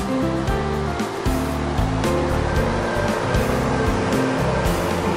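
Ventilation fans run steadily in a broiler chicken barn with automatic drinkers and feeders, a constant loud rushing roar with low mechanical hum throughout and no voices.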